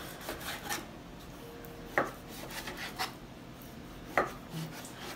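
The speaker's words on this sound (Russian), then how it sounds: "Я нарезаю так." A knife slices through ingredients on a board while Belarusian draniki and mushroom-topped meat are prepared in a home kitchen, a few soft cuts and thuds spaced irregularly, faint and close, with no talk.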